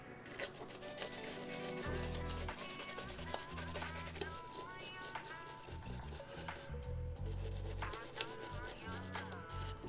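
Close, brisk brush scrubbing on an N64 console circuit board cleaned with 99% isopropanol, rapid repeated scratchy strokes with brief pauses and no talking.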